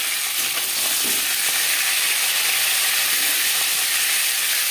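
Pieces of snakehead fish frying lightly in hot oil in a pan, a dense, loud, continuous crackling sizzle heard up close with no talk.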